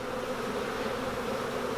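Honey bees buzz at an opened beehive, a dense continuous hum of many insects close by, steady and loud from start to finish with no talking.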